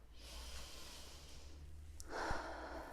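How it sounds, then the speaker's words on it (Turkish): A slow, deep breath, drawn in audibly and then released in a soft, airy exhale, close and quiet with no talking. "Önce derin bir nefes al."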